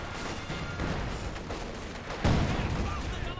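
Gunfire and explosions from an MG42 machine gun and mortars in the Company of Heroes 2 battle game, a steady dense crackle of shots with a louder blast partway through.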